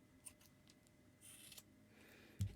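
Scissors snipping crochet yarn at a hat project, a couple of quiet, close cuts with a brief sharper snip near the end, otherwise near silence.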